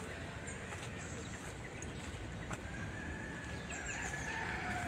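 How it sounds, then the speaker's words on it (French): A rooster crows faintly in the distance over steady outdoor background noise, with the call rising clearly toward the end. "Ah mais il y a des coqs maintenant."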